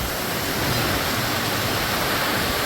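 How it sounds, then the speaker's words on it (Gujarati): Torrential downpour over Surat, a dense, steady roar of heavy rain that holds at an even loudness throughout, with no voices. "પોરબંદર, દ્વારકા પછી સુરતમાં ધોધમાર વરસાદ"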